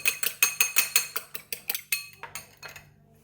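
Eggs and salt are beaten in a bowl with quick, rhythmic clinking strokes of a utensil against the sides, about a dozen sharp taps that slow and fade near the end, with no talking.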